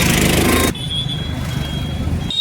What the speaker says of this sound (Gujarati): બાબા રસમાં ટ્રાફિક તો હોય જ છે